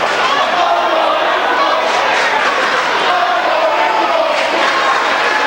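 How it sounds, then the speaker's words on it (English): Loud cheering and yelling from a packed high school girls basketball crowd with rival student sections swells continuously, dense and close, with shouts rising over the steady roar. "A loud crowd here tonight."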